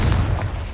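A Confringo fire spell blasts in Hogwarts Legacy: a single loud, close boom that fills the short moment with heavy low rumble.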